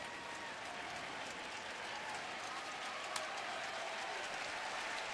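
Steady applause and crowd noise from spectators at a Seattle at Cleveland baseball game, a broad continuous wash at moderate level lasting throughout, with no clear speech over it.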